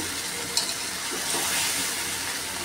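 Chicken with green papaya is braised in a pan, and a steady, close hiss of frying and gentle stirring runs throughout with no speech.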